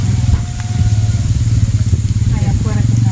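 A motorcycle engine drones steadily near a rural home, a low continuous rumble with faint crackle, while people talk over it.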